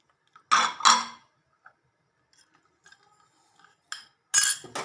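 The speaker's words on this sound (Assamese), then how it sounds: "এতিয়া অকণমান লৰাই পিনি" A spoon stirs rice, milk, sugar and dry fruits in a pressure cooker for kheer, giving two close metallic scrapes followed by sparse faint taps and a final pair of clinks in a quiet room.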